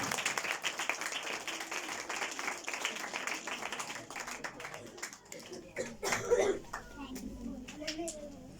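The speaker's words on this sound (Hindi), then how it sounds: "आपकी भरपूर तालियों में" Applause for Emmanuel Kashif and Samuel Kashif at a school Christmas program, scattered clapping mixed with children's chatter and crowd noise, with voices talking throughout.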